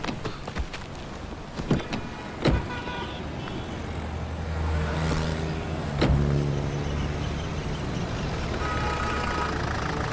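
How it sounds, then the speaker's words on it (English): A car starts with a few sharp clicks and door or latch knocks, then its engine settles into a steady, moderate hum as it begins to drive. "Start the vehicle. Start the vehicle."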